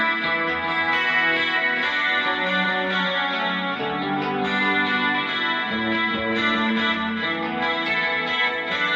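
Electric guitar played on the Jaguar's bridge pickup through chorus-like effects and reverb, ringing out as a bright, shimmering chord pattern at a steady level with no voices.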